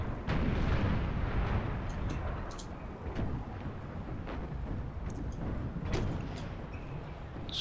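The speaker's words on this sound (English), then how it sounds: "Exchanging fire, but not having a huge effect right now" Troops trading musket and cannon fire in Empire: Total War, a steady rumble of booming volleys with scattered sharp cracks and pops layered over it throughout.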